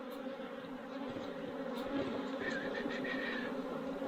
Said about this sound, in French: Merci les abeilles.